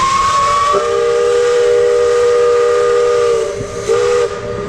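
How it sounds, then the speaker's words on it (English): A loud steam whistle from the Big Thunder Mountain Railroad ride train at Disney World's Magic Kingdom holds one long blast of several seconds, then gives a short second toot over a faint background hiss. "Big Thunder Mountain Railroad."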